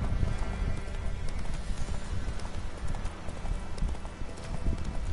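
The horse Roach gallops in The Witcher 3, a steady, continuous drumming of hoofbeats with soft game ambience and no pauses.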